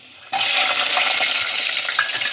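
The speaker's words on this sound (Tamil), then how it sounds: "அந்த பூண்டு நல்லா பொரியணும்." About ten garlic cloves drop into hot oil with fenugreek seeds and curry leaves for a bitter gourd kuzhambu. A loud, close sizzle starts abruptly and holds with crackling bubbles.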